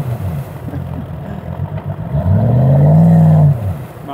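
A 4x4 off-road vehicle's engine at Spaarnwoude runs at a low rumbling idle, then revs up in a rising, loud surge before settling back, with a clattering mechanical edge.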